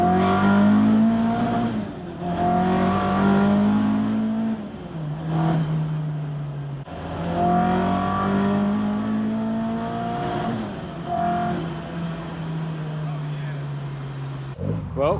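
A Ford Pinto engine running with a loud, steady mechanical drone whose pitch swells and eases in two long waves, close up and continuous throughout.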